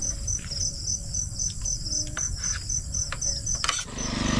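Crickets chirp in a steady, close, continuous trill on a morning in a rural vegetable garden, with a brief mechanical rattle near the end.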